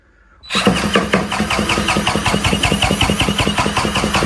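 A Chinese F-80 petrol engine for a bicycle, about 80 cc, starts abruptly and settles into a loud, close, rapid chugging putter at a steady, even pulse. No one talks over it.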